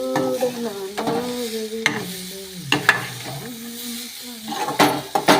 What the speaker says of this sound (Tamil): அடிப்பிடிக்காமல் கிளறிக்கணும்